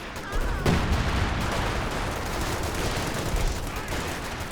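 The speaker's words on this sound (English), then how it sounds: "The zeroing artillery dropped in now." Artillery shells landing in Company of Heroes 2, a dense continuous barrage of booms and rumbling impacts with gunfire mixed in, loud and steady throughout with one sharper crack early on.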